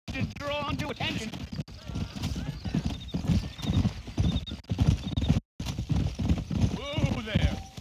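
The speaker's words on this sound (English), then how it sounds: "You ain't gonna find sturdier horses than these in all of New Ulster." Horses in the Red Dead Redemption video game trot with steady clip-clop hoofbeats and neigh now and then, under continuous talk from a rider.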